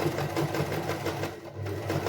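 A sewing machine runs continuously as a child's dress is stitched from an old churidar, a steady close whir with a fast needle chatter, briefly slowing mid-run before picking up again.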